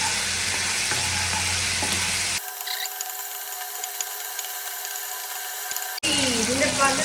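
Coconut milk frying in a pan while being cooked down into homemade coconut oil, a dense crackling sizzle with spattering, interrupted by a quieter stretch with steady tones before the sizzling returns.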